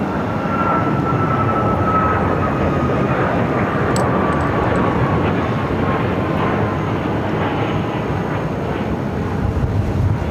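A Boeing 737 jet departing from a busy airport runway, a loud continuous engine roar holding steady throughout with no pause or letup.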